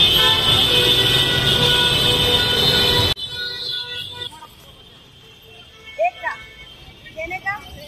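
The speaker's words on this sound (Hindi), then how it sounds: "देखिए मुंबई की ट्रैफिक" Busy Mumbai street traffic near Mohammad Ali Road and Nakhuda Mohalla, with dense loud engine and horn noise that cuts off abruptly, then quieter street ambience with a few short sharp horn toots and someone talking.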